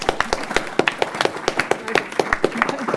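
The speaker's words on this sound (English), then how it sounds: "So a round of applause." An audience at a book discussion event gives a round of applause, with brisk, irregular clapping from a modest group of people, fairly close and loud throughout.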